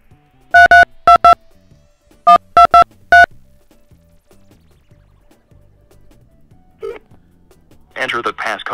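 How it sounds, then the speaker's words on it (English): Phone number dialed on a keypad during a puzzle game level, six distinct loud touch-tone beeps in two quick groups, followed by faint rustling and a short burst of synthetic voice at the end. "Well, we have to call that number. So I'm going to do that on my phone right here"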